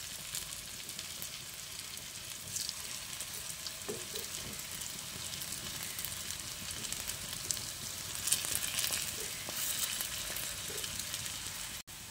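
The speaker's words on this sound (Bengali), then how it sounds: "লো টু মিডিয়াম ফ্লেমে ভাজলে ভিতর পর্যন্ত ভালোভাবে মুইঠাগুলো ভাজা হয়ে যাবে।" Soybean muthia dumplings frying in oil over a low to medium flame, a faint steady sizzle with occasional soft bubbling and a brief clatter near the end, no voices.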